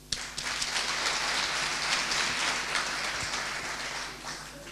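Applause from an audience at a Christmas nativity-scene event held inside a prison, a steady dense patter of many hands clapping that swells quickly and fades slightly toward the end, with no talk over it.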